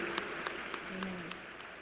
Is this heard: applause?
yes